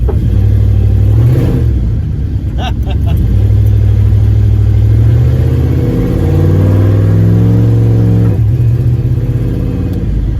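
A turbocharged LS-swapped Caravan engine roars loud and close as it accelerates hard, the pitch rising and then dropping sharply with firm gear shifts, a voice breaking in briefly.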